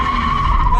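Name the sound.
car drifting with full throttle, tires skidding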